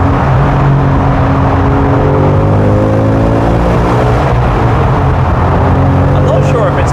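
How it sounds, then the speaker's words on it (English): A Dark Horse sports car in track mode, with track exhaust, drops down through the gears. The engine drones and swells in the background while people talk over it throughout. "let's go into track mode proper, which obviously then has track exhaust"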